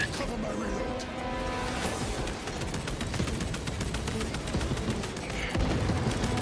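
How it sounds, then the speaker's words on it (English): Rapid gunfire crackles continuously in Warhammer 40K Space Marine 2 combat, dense bursts and booms layered over game noise while players talk. "We're getting shot at."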